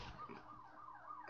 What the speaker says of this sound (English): And pardon the sirens.